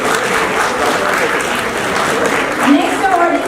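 Audience clapping at the Indian Galaxy Foundation's National Excellence Award 2023 ceremony, a steady, dense wash of applause lasting the whole stretch with voices mixed in and a brief swell near the end.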